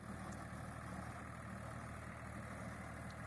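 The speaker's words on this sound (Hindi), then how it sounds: "ये देख सकते हैं आप फार्म ट्रैक चैंपियन 39 HP का जो ट्रैक्टर है, 7 फीट रोटावेटर पर परफॉर्मेंस बहुत ही बेहतरीन दे रहा है।" A Farmtrac Champion 39 HP tractor runs a 7-foot rotavator in a field, a steady, droning diesel engine with a constant low rumble and no voices.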